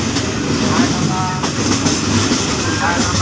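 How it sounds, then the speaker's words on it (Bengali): The Jayantika Express passenger train runs from Dhaka to Sylhet through the Sreemangal tea country, rumbling steadily with a continuous rolling rattle and clatter heard from on board, and someone talks over it. "Jayantika express, Jayantika express, Dhaka two Sylhet"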